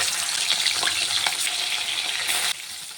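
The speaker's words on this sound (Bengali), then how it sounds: "তেলটি গরম হয়ে গেছে, আমি পমফ্রেট মাছটি ভেজে নেব।" Dense, close sizzling of pomfret fish, rubbed with salt and turmeric, frying in hot oil, loud and continuous, easing slightly toward the end.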